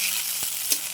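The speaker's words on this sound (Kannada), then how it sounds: "ನೋಡಿ, ಈ ಥರ ಎಲ್ಲ ನೀಟಾಗಿ ಚೆನ್ನಾಗಿ ಫ್ರೈ ಮಾಡ್ಕೊಳ್ಳೋಣ." Baby sweet corn fries in a pan with a steady soft sizzle and a couple of faint stirring taps, brief and quiet.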